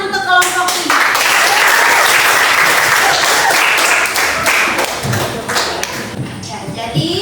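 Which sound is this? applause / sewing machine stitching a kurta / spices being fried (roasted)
applause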